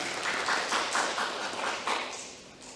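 Audience at a Seoul forum on waste systems claps in a short round, a steady patter of many hands, moderately loud and close, with no talking.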